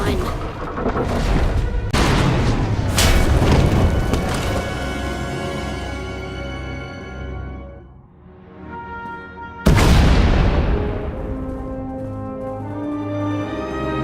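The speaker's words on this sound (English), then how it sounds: "We heard explosions." Heavy booming blasts in a video game roll one after another, loud and rumbling, then fade before a sudden sharp explosion cuts in and its rumble lingers.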